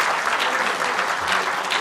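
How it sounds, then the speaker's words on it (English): An audience applauds a guest speaker at a lecture on American conservative politics and US-Asia relations, a dense, steady wash of many hands clapping at full strength throughout, with no voices above it. "give him a big hand of applause again"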